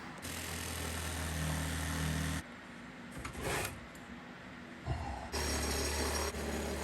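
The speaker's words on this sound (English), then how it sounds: "So here I'm getting rid of that extended piece off the counter, just using a Sawzall" A Sawzall reciprocating saw cuts through an RV countertop in two loud, buzzing bursts with a rapid vibrating rhythm, separated by a quieter stretch of scraping and handling noises.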